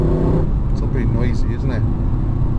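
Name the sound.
Vauxhall VXR8 GTS engine and exhaust noise while driving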